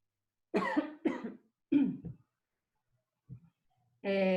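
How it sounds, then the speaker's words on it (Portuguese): Three harsh coughs in quick succession, then a small throat-clearing sound and the start of a voice; close and fairly loud. "já começo a tossir depois que eu começo a falar bastante"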